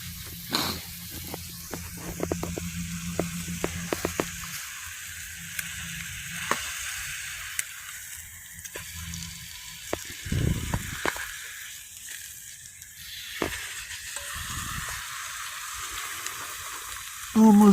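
Eggs and steak sizzle in a frying pan with a steady, bright hiss. Scattered pops and clinks of utensils sound over it, and a voice speaks briefly.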